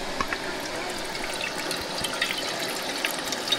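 River water flows steadily down from upstream, a continuous broadband rush with small splashy accents throughout, close and fairly loud, with no talking.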